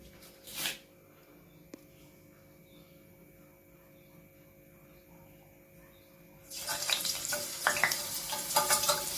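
Boondi batter poured through a ladle into hot oil for a summer children's snack, with a faint hum at first, then a loud, broad frying sizzle that bursts in near the end and keeps crackling.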